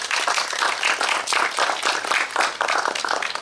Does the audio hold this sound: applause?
yes